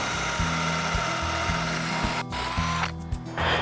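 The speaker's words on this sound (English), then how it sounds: "I'm just going to put a little pilot hole through here just to make drilling easier." A power drill whirs steadily close by, its motor pitch shifting slightly as it bores a pilot hole through wood, briefly easing before spinning up again.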